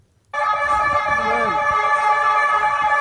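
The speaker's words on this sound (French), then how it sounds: "il y a quelqu'un qui a interpellé un gars qui faisait aller sa sirène" A loud, steady electronic siren blares close by after a moment of silence, with a faint voice briefly audible beneath it.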